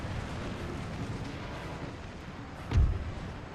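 A single thudding grenade burst from infantry units in Empire: Total War lands at a distance, a short low boom rising over a steady wash of battlefield ambience.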